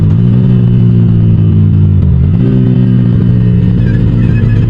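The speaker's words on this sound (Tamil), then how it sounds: "கியர் கட் பண்ணால் உங்களுக்கு பாப்ஸ் கேட்கும்னு நினைக்கிறேன்." A Yamaha R15 V4 motorcycle with a modified exhaust runs loud and close, its engine note holding steady, dipping briefly around a gear cut, then picking back up, with no speech.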